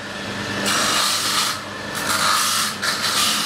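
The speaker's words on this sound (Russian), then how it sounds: "Все там, пока Павел Григорьевич пилит." Metal being sawn or filed by hand in a blacksmith forge while a candlestick is forged, a steady rasping grind in repeated strokes, close and fairly loud, with no talk over it.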